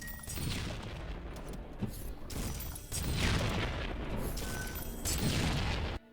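A large explosion from a coin-triggered shot in the video game ULTRAKILL bursts out in several loud, rumbling booms with crackling debris, one after another, with no talk.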